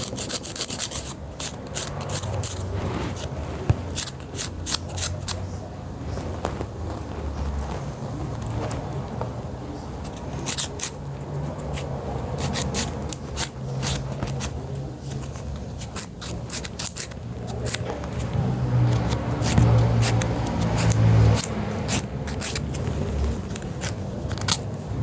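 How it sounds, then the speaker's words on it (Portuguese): A nail file rasps against fingernails in quick, repeated strokes that come in close, bursty runs with short pauses between them and no talking. "eu poderia mostrar pra vocês eu lixando a unha"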